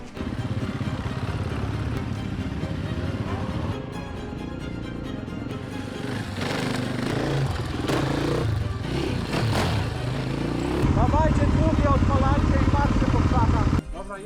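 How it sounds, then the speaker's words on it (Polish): Supermoto motorcycle engines drone steadily throughout on an island in Croatia, with rumbling and occasional clatter, while voices talk over the riding noise. "wsiedliśmy na motocykle, no i pojechaliśmy go szukać"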